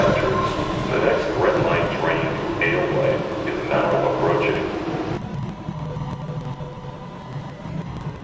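A video game subway train rumbling and screeching as it arrives, with steady low rumble under a public-address announcement of a red line train to Ashmont.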